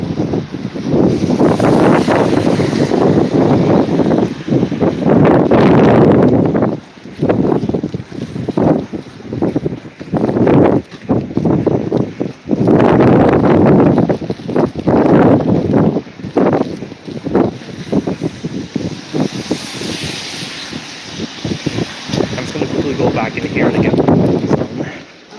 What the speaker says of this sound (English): the wind appears to be going northeast bound right now